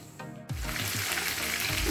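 Oil sizzles and crackles steadily in a pan after onion and garlic drop in, a close, continuous frying hiss with no talking.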